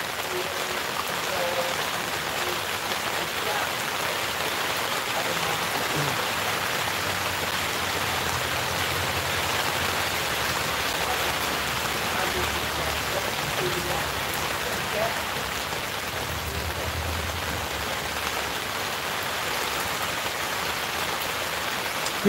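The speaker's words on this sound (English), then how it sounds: "Listen to that rain." Rain falls steadily outside onto surfaces, a continuous loud wash of dripping and splashing with faint low murmurs underneath, lasting throughout.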